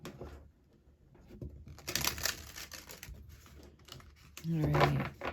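Tarot cards being shuffled by hand during a reading, giving a dense papery riffle and crinkle that builds over a few seconds after a quiet start, close and fairly loud, ending with a brief voiced sound.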